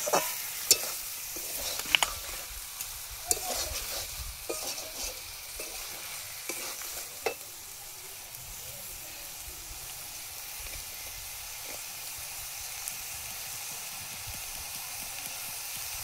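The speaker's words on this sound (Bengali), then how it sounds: "মশলাটা ভালোভাবে মিক্স করে নিতে হবে" Small pieces of fish coated in spice mix sizzle and fry in a pan as a spoon stirs them, giving soft scrapes and clinks over a steady hiss that grows calmer toward the end.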